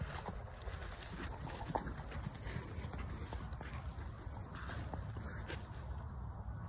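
Hooves of a horse walking at a steady pace during a riding pattern class, with regular clip-clop steps under outdoor ambience and faint birds.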